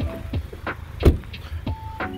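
A car's alert chime warns that the keys are not inside. Short tonal beeps sound at an even pace, with a louder thump partway through, heard alone without talk.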